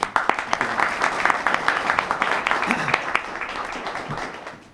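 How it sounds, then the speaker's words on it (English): Audience applause at the grand opening of a health education center in San Carlos: dense, steady clapping from a gathered crowd, with a few louder claps up close, slowly tapering off over several seconds. "round of applause for Linda and all."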